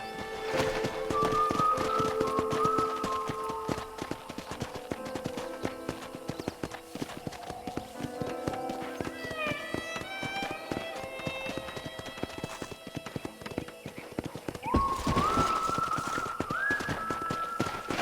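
Horse hooves clip-clopping at a steady trot in the Red Dead Redemption video game, a continuous rhythmic patter close by, mixed with game music and character speech.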